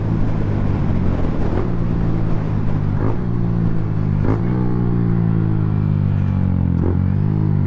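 Motorcycle engine idling with a deep steady rumble, punctuated by several sharp throttle blips that rise and fall at irregular intervals, loud and close.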